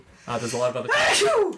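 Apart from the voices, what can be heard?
sneeze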